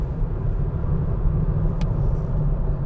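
A 2021 Nissan Versa S on 15-inch wheels being driven through a handling test, giving a steady, loud low rumble of engine and road noise throughout, with no talking.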